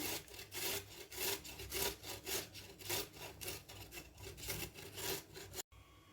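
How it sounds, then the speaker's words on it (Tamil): Peeled beetroot is grated finely by hand, a close, rhythmic rasping of repeated strokes about five per second, with no talking and a brief cut near the end. "இதை நம்ம நல்லா துருவி எடுத்துக்கலாம். நைஸாக துருவி எடுத்துக்குவோம்."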